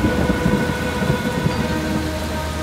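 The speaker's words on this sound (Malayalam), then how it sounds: "അതിനാൽ ഭൂമിയിൽ വലിയ മഴയുണ്ടായി." Heavy rain pours down steadily with a low rumble beneath, a dense, loud wash of drops that stays constant throughout.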